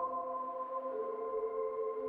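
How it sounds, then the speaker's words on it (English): A soft, sustained ambient synth pad holds a few steady tones, calm and continuous, with a slight shift in pitch midway. "this ambient splice loop. Sounds like this."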